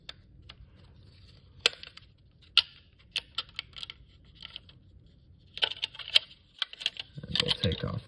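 A plastic faceplate is pressed and pried off a device, a series of sharp close clicks and snaps with small rattles, busier handling and scraping toward the end.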